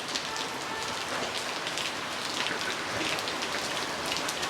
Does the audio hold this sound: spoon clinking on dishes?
no